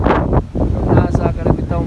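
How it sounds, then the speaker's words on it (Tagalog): Strong gusts buffet the microphone while someone walks outdoors in Sanary, France, a loud rumbling roar in uneven bursts with a voice talking through it. "Nga na kahangin guys. Ang hangin guys."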